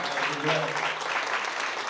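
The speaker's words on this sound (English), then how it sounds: "Let's give you guys a round of applause." A real estate mastermind audience breaks into a brief, steady round of applause, close and full, with a voice briefly heard under the clapping.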